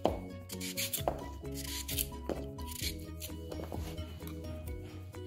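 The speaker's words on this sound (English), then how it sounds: "I like to score the mango seeds like that, so the seasoning gets in better when you mix it up." A knife scores mango seeds while preparing Trinidad chow, a series of faint, close rasping and scraping strokes on the fruit, repeated irregularly without speech.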